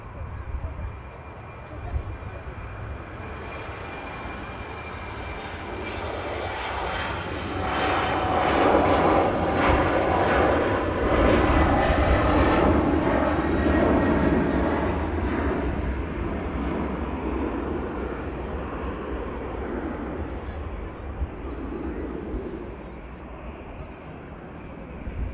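An Embraer 195 airliner departing Manchester Airport for Copenhagen, a loud, steady jet engine roar that swells to a peak midway and then slowly recedes, with people talking faintly underneath.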